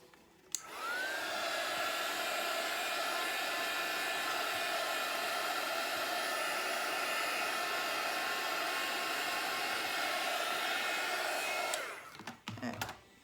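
A hair dryer blows steadily and loudly on a drawn Bible journal page for about eleven seconds, switching on and off abruptly, with no talking over it.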